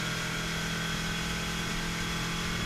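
A 2010 Key West 196 Bay Reef boat's outboard engine runs hard near 5,000 RPM on a sea trial, a loud, steady, dense droning roar mixed with wind and water rush, with no talk.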